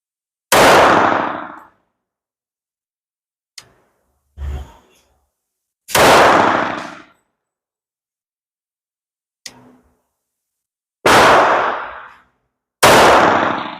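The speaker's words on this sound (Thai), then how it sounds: "โอเคห้านัดครับ ยิงได้ปกตินะครับ" A Glock 21 Gen3 SF pistol firing .45 ACP 200-grain semi-wadcutter rounds on a range, with about five loud, sharp shots spaced seconds apart, each with a short decaying tail, and faint clicks between them.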